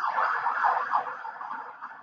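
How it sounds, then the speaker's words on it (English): An ambulance siren goes by on a main street in Budapest, its wailing tone rising and falling steadily and heard clearly from an apartment, slowly fading as it passes. "I hear the ambulance coming by."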